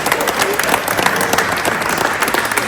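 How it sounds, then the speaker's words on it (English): An audience at a Burns Night gathering at Edinburgh Castle, Scotland claps in a dense, sustained round of applause, close and loud throughout. "Guys, give yourselves a round of applause."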